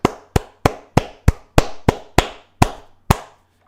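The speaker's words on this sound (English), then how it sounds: "let's give a round of applause" A series of sharp, evenly spaced single claps or slaps, about ten in under four seconds, loud and close with short decays, heard alone without talk.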